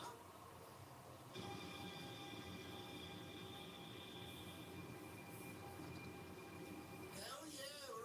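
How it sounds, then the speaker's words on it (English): Steady rumble of an old-style passenger train running through China, carrying continuous wheel and carriage noise with a faint squeal near the end, heard from inside a car with some voices under the din. "Hell yeah, we're on an old school train in China."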